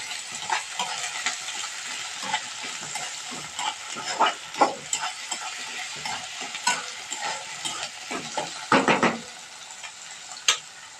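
Tomatoes are stirred into a pan while cooking a chole bhaji dish, with steady sizzling under repeated scraping strokes of a spoon against the pan, close and continuous with sharper scrapes near the end, no talking.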